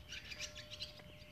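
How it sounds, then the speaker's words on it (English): Birds near the shore on Star Island on a cold, breezy morning give faint, quick chirping calls in a brief burst over soft wind noise. "I think the birds are getting used to me."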